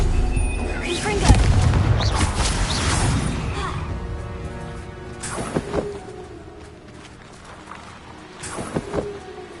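Confringo fire spells blast in Hogwarts Legacy, heavy booms and crashing impacts among spell effects, with a voice talking over the action between hits.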